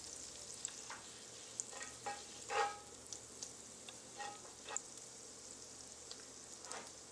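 Butter and crushed garlic sizzling in a cast iron skillet, a quiet steady frying hiss broken by soft crackles and pops at irregular moments, with no one speaking.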